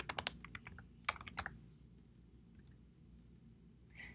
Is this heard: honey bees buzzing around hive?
no